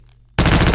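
Loud, close automatic gunfire from a weapon in Half-Life: Opposing Force bursts in abruptly after near silence and hammers on as a dense, continuous rapid volley.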